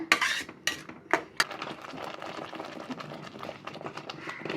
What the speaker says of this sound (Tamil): இது ஒரு அஞ்சு நிமிஷம் வதங்கிட்டுங்க